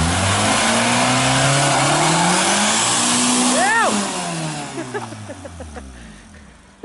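A Volkswagen Gol Turbo revs hard during a burnout, the engine note climbing and sweeping in pitch with a sharp rev peak before settling, alongside tire noise, with voices talking nearby.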